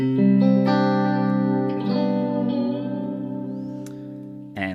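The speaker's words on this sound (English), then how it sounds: "I also have a delay set up within the Boss unit, and this is what this sounds like." Sustained electric guitar notes ring out through a Boss MS-3 digital delay, repeating echoes trailing behind each one, the delayed copies stacking into a wash of sound.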